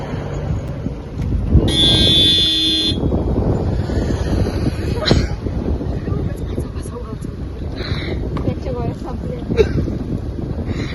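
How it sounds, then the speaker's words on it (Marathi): A vehicle horn honks once, a loud, nasal blare lasting about a second, over wind buffeting the microphone and people talking nearby on a road trip around Akalkot. "हॉर्न का वाजवतो समजत नाही"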